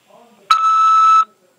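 A single electronic beep from a corrections-facility phone system: a loud, clean tone lasting under a second, heard alone after faint background sound.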